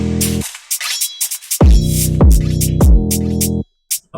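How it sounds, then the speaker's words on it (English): Drill beat with a stomp sample layered in, heard alone: deep sliding 808 bass hits and punchy kicks land in a steady pattern under bright hi-hats and percussive stomps, then the low end drops out leaving a few sparse hits. "And then added this little stomp."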